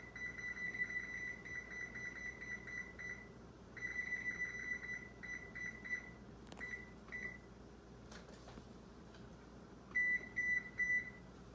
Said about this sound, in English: we're gonna go ahead and bump up our oven to 350